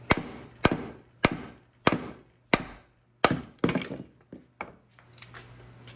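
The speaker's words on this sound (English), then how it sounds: "Sometimes you hold onto the pin and you hammer it apart." A series of sharp metallic hammer strikes driving a pin out of a nail gun, about a dozen, evenly spaced at first, then faster and lighter with ringing decay, close and loud.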